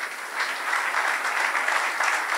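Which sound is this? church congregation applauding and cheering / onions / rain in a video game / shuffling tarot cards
church congregation applauding and cheering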